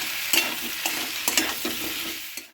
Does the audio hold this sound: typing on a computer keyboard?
no